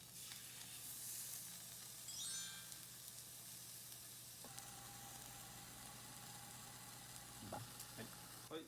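Fish pan-frying gives off a steady soft sizzle, with a brief scrape and shift partway through as it is flipped in the pan, quiet and continuous throughout.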